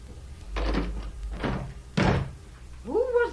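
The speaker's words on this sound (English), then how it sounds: "Who was that who slammed the door?" A door slams hard in a house being used as a hospital, a single heavy thud that comes after two earlier softer knocks. A voice then cries out close by.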